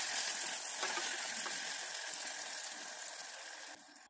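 Steady, loud sizzling of chopped tomato frying in a pan, a dense continuous hiss that holds for several seconds before fading slightly at the end.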